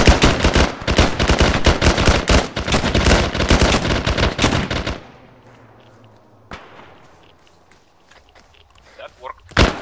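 Rapid automatic gunfire from a squad opening fire in S.T.A.L.K.E.R., a dense, loud barrage of overlapping shots for about five seconds, then cutting to quiet with a few scattered distant shots and faint sounds.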